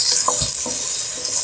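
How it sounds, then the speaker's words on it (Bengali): Tomatoes and onions fry together in a pan, a close, steady sizzle with a couple of quick scraping stirs of a spoon. "টমেটোটা দিয়ে দেওয়ার পর আমি পেঁয়াজের সাথে টমেটোটাও আর একটু ভেজে নিচ্ছি।"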